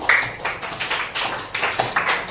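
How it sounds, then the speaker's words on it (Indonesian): A small group claps in scattered, uneven bursts during a teachers' coaching session in Indonesia, the claps sparse and fairly close rather than a full ovation. "Oke, tepuk tangan dong buat Irfan."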